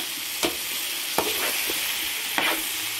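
Sliced steak, sausage and peppers fry in a pan with a steady close sizzle, while a spoon scrapes and stirs in a few distinct strokes.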